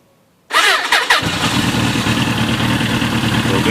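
A 1997 Suzuki GSX-R 1100 motorcycle engine starts with a brief starter whir and quick catch, then settles into a steady, loud, close idle rumble with no talking.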